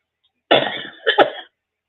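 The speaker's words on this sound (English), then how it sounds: "Excuse me, but I am still coughing." Two harsh coughs in quick succession, close and fairly loud, with silence before and after.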